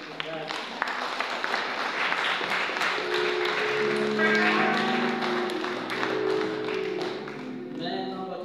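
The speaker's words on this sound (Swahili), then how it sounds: "Tupige makofi karibisha mchungaji." A church congregation applauds to welcome the pastor at the close of a worship service, a steady wash of clapping running throughout with voices and singing-like tones layered over it.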